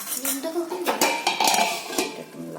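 A lid set onto a metal cooking pot of chicken bharta gives a quick series of close metallic clinks and clatters.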